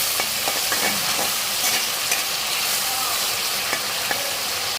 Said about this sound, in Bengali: চিংড়ি মাছটা আমার ভাজা হয়ে গেছে।